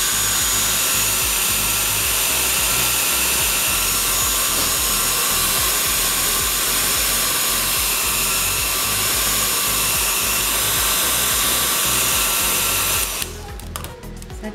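Hair dryer blowing steadily on a wet paint layer on a journal page, a constant loud whir that cuts off near the end and leaves quieter handling sounds.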